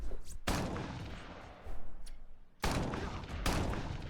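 The Equalizer gun fires in Crackdown in two loud, sustained volleys, each a dense roar of shots, separated by a quieter stretch of fainter firing and rumble.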